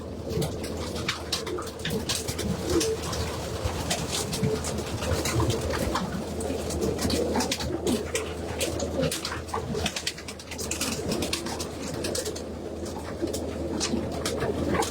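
Racing pigeons coo continuously inside a loft, many soft overlapping calls close by, with light rustling and wing movement throughout.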